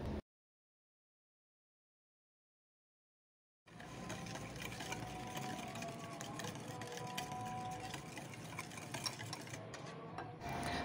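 Vanilla essence being stirred into a mixture for brownie chocolate ice cream; after a few seconds of silence, steady close scraping and swishing of a spoon in a bowl continues to the end.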